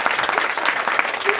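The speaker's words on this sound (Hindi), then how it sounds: "एक बार जोरदार ताली हो जाए।" Hearty applause from a crowd at a college golden reunion gathering, loud and close, with dense rapid clapping filling the whole moment and no talking over it.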